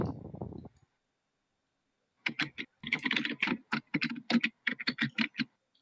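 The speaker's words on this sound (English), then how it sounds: "Stupid keyboard." Computer keyboard typing in quick irregular bursts of clicks and clacks, close and fairly clear, after a short low rumble at the start, with no voices.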